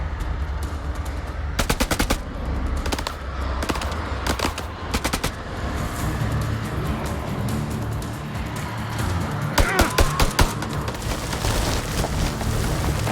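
Gunfire from the video game House of Ashes, with several sharp bursts of rapid machine-gun fire and single shots over a rumbling background of game sound, loud and close.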